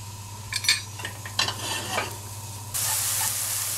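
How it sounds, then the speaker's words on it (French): Sliced shiitake mushrooms with a little garlic being sautéed in a pan: a few close spatula stirs and scrapes, then a sudden steady sizzle takes over for the last second. "je vais faire sauter mes shiitake, donc coupés en tranches, avec un petit peu de champignons et un petit peu d'ail"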